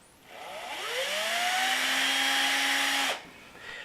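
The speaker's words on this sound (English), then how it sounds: "and drill a 2mm hole first." A drill bores a 2mm hole in the boiler of a Gauge 1 Duchess model locomotive: a motor whines up in pitch, holds a steady high whir for about two seconds, then cuts off abruptly, close and fairly quiet.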